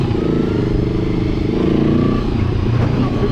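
A Hanway YP500 motorcycle engine runs while riding, a loud, steady low drone with a rough, throbbing texture close to the microphone.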